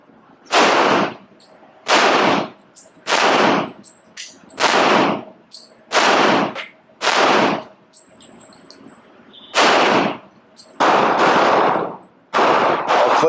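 Kimber 1911 pistol fired at a range in a string of about ten loud, sharp shots with uneven gaps, each with a short ringing decay, and no talking.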